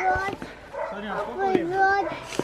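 A dog whimpers and gives short high yips close by, mixed with thin whining tones and background voices.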